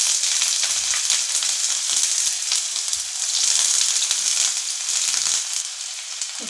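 Black cumin seeds and chopped onions with pieces of dry red chilli hiss and crackle in hot oil, a loud, steady, close sizzle with no voices.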